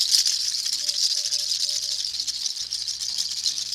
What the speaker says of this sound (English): or rattle their tail.